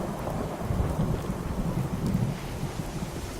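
A thunderstorm in Fallout 4 VR, with heavy steady rain and low rolling thunder rumbling underneath throughout, no voices.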